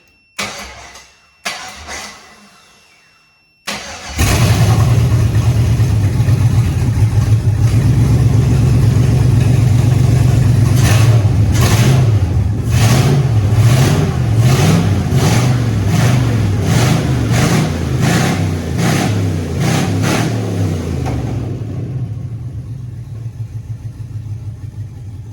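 A Chevy LS engine cranks in a few short bursts, then fires up off a Milwaukee jump box wired straight in, running loud and close for about seventeen seconds with repeated revs before it shuts off and fades to quiet.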